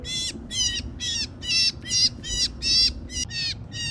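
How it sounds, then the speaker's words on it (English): A gray catbird with a black cap, held during bird banding, gives a rapid series of about ten harsh, mewing squawks, loud and close, with faint handling noise beneath. "It's making a meowing sound, and it's basically a gray bird with a black cap."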